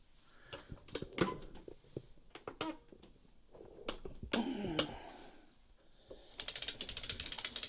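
A circular sock knitting machine with a 72-slot cylinder is cranked, giving a loud, rapid ratcheting and clicking of gears and pawls that runs in bursts and becomes a dense, steady rattle toward the end.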